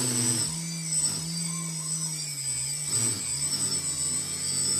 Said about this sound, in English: if you lower one of the arms, that arm should struggle more, so you can hear it rev up more